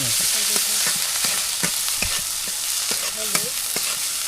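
Spices stirred in a hot pan for chickpea biryani on a village clay stove, a steady sizzle with repeated scraping strokes of the spoon at an uneven rhythm, close and fairly loud, no talking.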